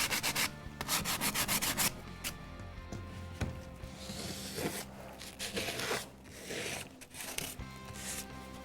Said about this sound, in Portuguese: Aonde eu passar a lixa vai estar arrancando.